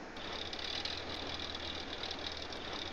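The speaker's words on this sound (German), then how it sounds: "Ein alter Ford. Schau mal, wie der tönt." The engine of an old original Ford pickup in Farming Simulator 22 runs steadily with a rough, knocking, buzzing tone, continuous and even throughout with no pauses.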